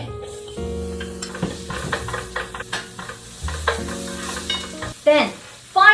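Carrot and onion stir-fried in a pan for Korean potato side dish: a spatula scrapes and stirs repeatedly against the pan in close, busy strokes over a light sizzle.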